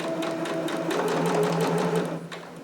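A sewing machine back stitches the top of a seam on a McCall's 7402 harem jumpsuit, giving a steady, close mechanical whir that runs without a break and eases off slightly at the end.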